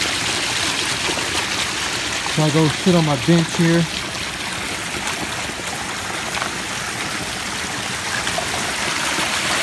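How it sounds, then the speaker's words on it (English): Steady trickle of water in a backyard pondless waterfall, a constant close splashing wash, with someone speaking briefly over it. "I like that little trickle of water there"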